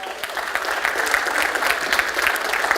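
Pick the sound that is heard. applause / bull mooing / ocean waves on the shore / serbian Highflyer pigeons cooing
applause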